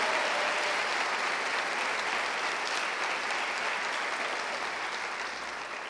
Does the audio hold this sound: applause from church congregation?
yes